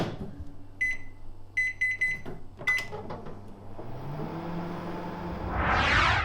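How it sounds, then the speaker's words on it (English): A microwave oven reheating mac and cheese: a few short beeps and door or button clicks, then a steady, close electric hum that builds to a louder whirring rush near the end. "now this goes back in the nuker for another 90 seconds"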